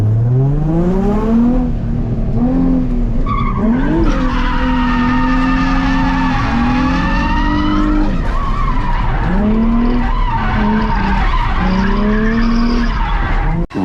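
Drift car sliding around a race track, its tires squealing in long sustained screeches while the engine revs rise and fall through the corners, loud and close with no talk.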